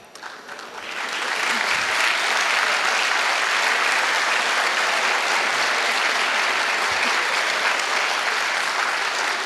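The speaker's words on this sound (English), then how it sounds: "that was quite a loud applause indeed" A crowd at a college induction program bursts into applause at the close of the first day, the clapping swelling quickly after a soft start and staying loud and sustained throughout.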